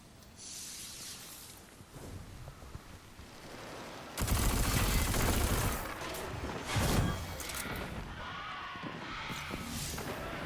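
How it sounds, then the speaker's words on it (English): Rockets launching and exploding in the shooter game Destiny 2: a hissing whoosh builds, then a loud burst of blasts and crackling debris, with further rumbling impacts and dense combat noise continuing. "Seeing things explode. I mean, they're just shooting rockets down like here"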